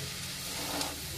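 Ghee hitting a hot pan of chowmein with peanuts, chanachur and tomato, a loud, steady close-up sizzle and hiss that holds without a break.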